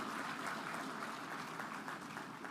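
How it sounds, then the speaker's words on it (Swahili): An audience at a formal event in Dar es Salaam applauds the President, dense continuous clapping from many hands that stays steady, then eases slightly near the end. "Naomba wote kwa pamoja tumpigie makofi Mheshimiwa Rais kwa kukubali wito huo."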